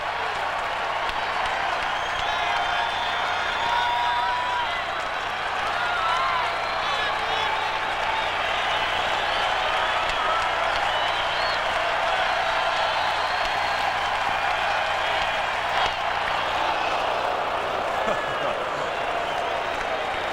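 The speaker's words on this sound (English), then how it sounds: "when they all exhale at the same time, it's quite an interesting sound" A baseball stadium crowd of about 25,000 at a Red Sox–Twins game lets out a long collective exhale and cheer, a dense, steady roar that fills the whole stretch with a broadcast voice talking over it.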